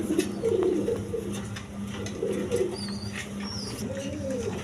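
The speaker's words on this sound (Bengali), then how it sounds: "এখানে একটা আকাশি কালার সিঙ্গেল নর কবুতর আছে" Pigeons, including a sky-blue male, coo softly and repeatedly in a loft setting, their low rounded calls recurring over steady background hum, with a few faint higher chirps from other birds.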